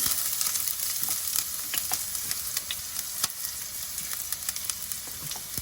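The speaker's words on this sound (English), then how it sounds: "Once it starts spluttering, I'm going to, see, that's why I'm holding it, covering it up with a lid. I'm going to add this chopped up onion." Chopped onion hits spluttering hot oil in a pan for a vegan carrot stir fry, and a dense, steady sizzle fills the whole stretch, crackling with sharp pops and spits, close and loud, with no talking.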